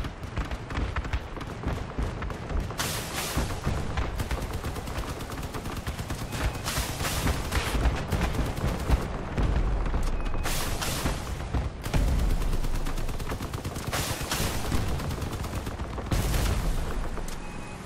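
A Wasp Launcher fires in the vehicle combat game Crossout, a rapid barrage of loud launches and impacts. The volleys come in repeated bursts over a constant din of battle noise.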